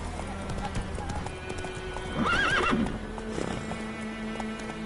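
Hooves of a horse clip-clop in The Witcher 3, joined midway by a loud whinny, with game sounds and a rider's voice around it.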